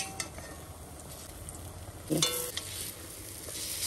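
Bora fritters sizzle quietly in a pan of oil, a soft steady frying hiss with a brief spatula clink and scrape around the middle as they are turned.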